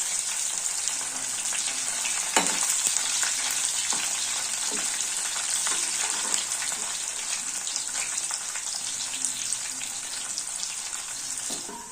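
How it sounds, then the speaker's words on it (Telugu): Colocasia (taro) pieces fry in oil in a pan with a constant bright crackling sizzle, broken by light, occasional stirring taps throughout. "ఇప్పుడు కలుపుకోండి కొద్దిగా కింది మీది ఇట్లా లైట్ లైట్గా కలపండి"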